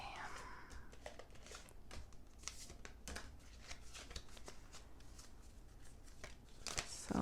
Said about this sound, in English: We're going to pull some more oracle cards from the herbal astrology cards or deck.